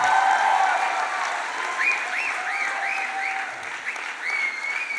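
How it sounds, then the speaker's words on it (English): An audience at a stage talk gives continuous applause, a dense wash of clapping with a high whistle or chirping tone rising and falling over it. "Let's hear a big round of applause for him."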